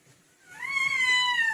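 A child imitates a cat, giving one drawn-out, rising meow that starts after a brief pause and rings loud and close.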